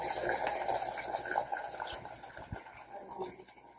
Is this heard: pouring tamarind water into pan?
yes